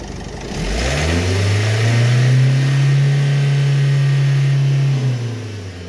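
A Vauxhall Vivaro/Renault Trafic diesel van engine with a MAF sensor fault (P0100) revs up from idle, holds a steady high drone for several seconds, then drops back down; loud and close.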